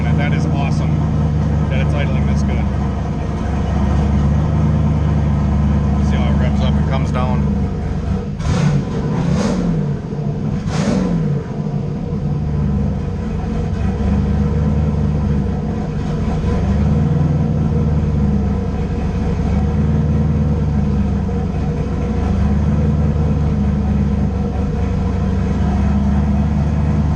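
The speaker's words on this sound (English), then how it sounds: "That is awesome that it's idling this good." A race-tuned car engine idles steadily with a deep, slightly lumpy low rumble throughout, close and loud, with someone talking over it and a couple of brief revs partway through.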